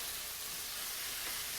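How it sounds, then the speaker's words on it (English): Garlic chicken with paprika sautés in a pan, giving a steady, quiet, close sizzling hiss with no talking. "This gets sauteed this way for a few seconds more"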